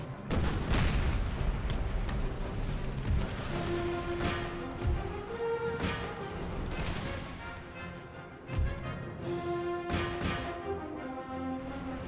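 Artillery and musket fire in the Napoleonic-era strategy game Empire: Total War (Empire 2 mod, Indian campaign), a dense continuous rumble of distant cannon booms and crackling volleys with occasional sharper blasts.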